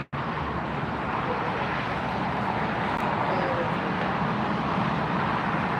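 A jet airliner takes off from the north side runway at LAX, a steady, loud, broad roar of engine noise sustained throughout without any pause.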